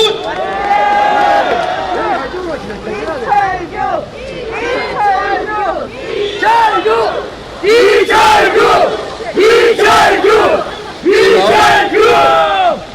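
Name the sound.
crowd cheering and applauding at election rally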